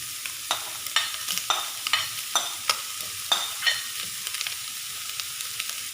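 Pork stir-fries in a hot pan with onion for egg fried rice, a spatula scraping in quick rhythmic strokes, about a dozen sharp metallic swipes over a continuous close sizzle, with no one speaking.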